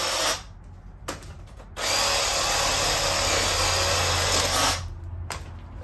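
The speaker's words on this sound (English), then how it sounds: "Sawzall makes quick work of it." A Sawzall reciprocating saw cuts through a deer's leg bone, a loud buzzing rasp in two bursts separated by a short pause, close up with no talk.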